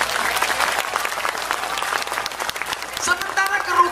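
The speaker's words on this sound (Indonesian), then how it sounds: "Tepuk tangan untuk NU Taiwan." A crowd at an Islamic religious gathering applauds for NU Taiwan, a dense, continuous burst of clapping from many people, loud and close, with scattered voices under it and a brief higher vocal sound near the end.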